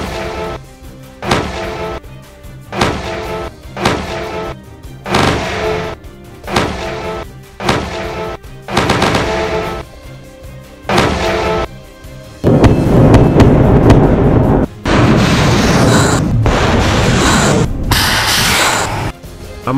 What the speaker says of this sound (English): the artillery unit of the Army organized its artillery unit to carry out a live ammunition